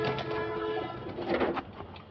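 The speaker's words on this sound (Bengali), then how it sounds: "এই যে কবুতর" Pigeons coo while being fed, a few soft throaty coos heard up close in a short burst.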